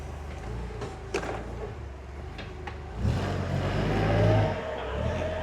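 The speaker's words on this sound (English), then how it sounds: "It's only a forklift, so it doesn't go that fast." A forklift drives slowly on a farm while carrying pallets for planting new peach trees; its engine hums steadily, close and moderately loud, with a few clanks and a rise in engine noise partway through, and no talking.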